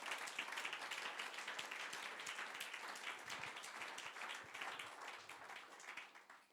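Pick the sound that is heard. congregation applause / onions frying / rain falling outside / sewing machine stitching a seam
congregation applause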